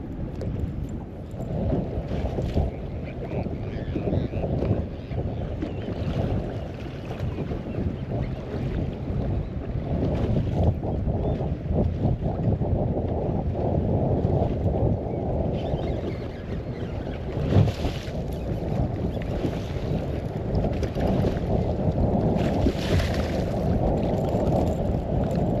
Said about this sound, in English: it is super windy, so I'm not running around